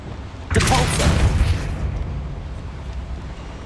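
Depulso force spell cast in the video game Hogwarts Legacy, a sudden loud burst of noise that swells for about a second and then settles into a fading rumble with no one talking.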